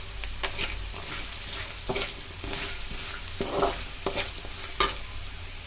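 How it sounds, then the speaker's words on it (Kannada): Sabudana khichdi base being fried and stirred with a ladle in a pan, with a constant sizzle and regular scraping and tapping strokes of the ladle close up. "ಉಪ್ಪು ಹಾಕಿದ್ಮೇಲೆ ಸ್ವಲ್ಪ ಚೆನ್ನಾಗಿ ಸೌಟಿಂದ ಫ್ರೈ ಮಾಡಿ, ಸೌಟಿಂದ ಸ್ವಲ್ಪ ಎಲ್ಲ ತಿರುಗಾಡಿ"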